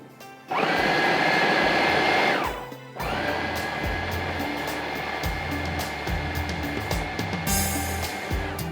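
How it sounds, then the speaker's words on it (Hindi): An electric chopper grinding ingredients for zafrani sawaiyan: a loud, steady motor whine that runs for about two seconds, stops briefly, then restarts and keeps grinding with a slightly rattling, uneven tone. "अब चॉपर को चलाएंगे, उसको बारीक करके पीस लेंगे"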